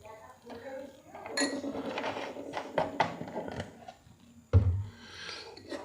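A spoon clinks and scrapes against a bowl, mixing a spoonful of refined oil into tawa pizza dough ingredients. The taps are close and irregular, with a sharper knock near the end and soft voices in the background.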